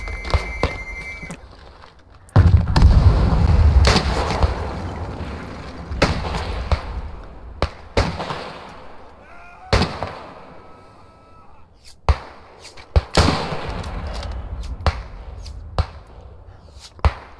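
A WW1 German sniper rifle in the shooter game Beyond The Wire fires a series of sharp, isolated cracks spaced a few seconds apart. A louder rumbling stretch comes early, and quieter background noise fills the gaps between shots.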